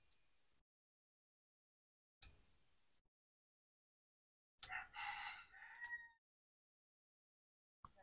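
A rooster crows outdoors in a rural Vietnamese setting, a single loud drawn-out call following a few faint brief noises, with quiet gaps around it and no talk.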